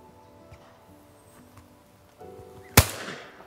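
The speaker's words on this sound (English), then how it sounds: "Lovely, great shot." A single shotgun fired at an estate shooting school, a loud close blast with a ringing outdoor tail breaking a quiet background.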